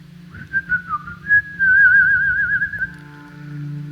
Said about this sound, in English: I'm going to whistle back.